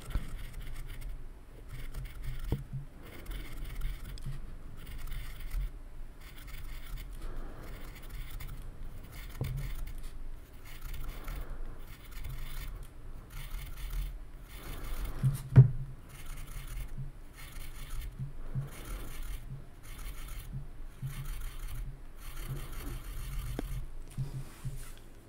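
Pencil sketching on paper, soft intermittent scratchy strokes in short bursts with brief pauses, close and quiet over a faint low hum, no talk.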